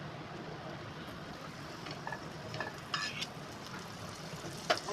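Butter melting in a pan for a paneer dish gives a soft, steady sizzle throughout, with a few light clinks and stirring scrapes from a spoon, fairly quiet and close with no talking.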